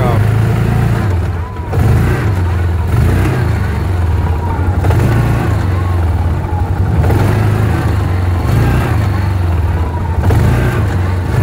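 A 2007 Rhino side-by-side with a broken motor mount pulls away from a stop, its engine droning steadily and loudly up close with a low rumble and small surges in pitch.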